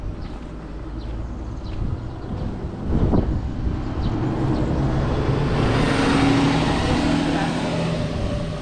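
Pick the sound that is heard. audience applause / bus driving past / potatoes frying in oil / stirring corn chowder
bus driving past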